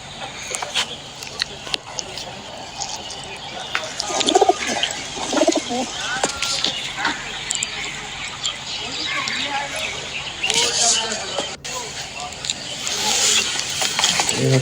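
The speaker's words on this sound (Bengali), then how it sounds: "এই হচ্ছে আমার 7 পিস নর কবুতর।" Seven male pigeons coo repeatedly from a cage on an open field in Kaliganj, Gazipur, before being released. The coos are close and recurring, mixed with other bird calls and distant traffic, while people talk throughout.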